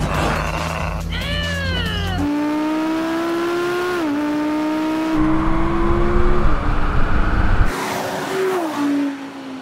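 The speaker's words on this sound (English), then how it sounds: "This launches pretty well for a rear-wheel drive car, but that's just gone." Loud Audi RS engines rev and wail as cars launch hard in a drag race, pitch climbing and dropping through gear changes, with a second engine joining partway through.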